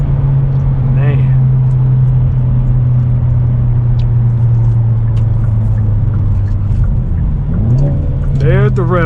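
2023 Hyundai Elantra N engine droning steadily while driving, with a quick rev-match blip rising and falling near the end; loud, close cabin sound with no talk.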